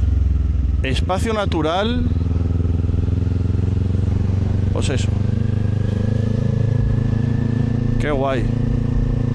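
Motorcycle ridden along a mountain road, its engine droning steadily and loudly throughout as a near constant hum, with a rider talking briefly over it at a few points.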